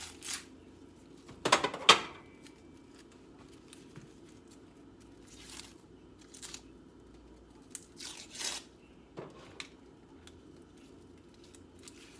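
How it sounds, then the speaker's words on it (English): A knife cuts an onion on a board, giving a few sharp crunching slices and separated taps spaced across a quiet stretch, close by with no talking. "I'm gonna take your onion and I'm gonna just cut it"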